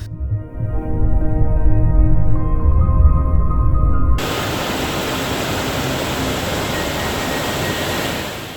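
Meenmutty waterfall in Wayanad: a steady, loud broadband roar of falling water fills the second half, following a stretch of humming, tonal rumble, with no voices.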